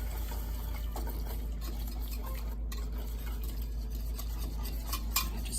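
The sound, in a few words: stirring milk with a wire whisk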